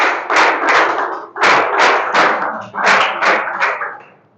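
A small class applauds a student speaker, bursts of close, brisk hand-claps arriving in three short rounds separated by brief pauses.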